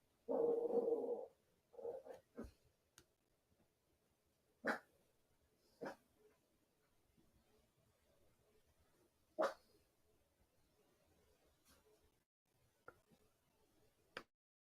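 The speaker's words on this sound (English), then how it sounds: "the dogs are barking" Dogs bark somewhere in the distance, a short burst of yips at first, then scattered single barks spread across a quiet background with long pauses between them.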